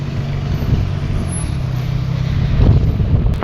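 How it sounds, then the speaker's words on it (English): Evening roadway traffic with trucks passing, a steady low rumble of engines that swells slightly louder toward the end, with no voices. "See, traffic is crazy in the evening."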